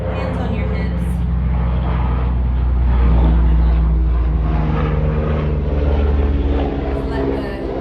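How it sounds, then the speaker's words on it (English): A helicopter passes overhead during an outdoor yoga session, a steady loud rotor and engine drone that swells toward the middle and then eases slightly, with a faint voice underneath. "Let's let the helicopter pass."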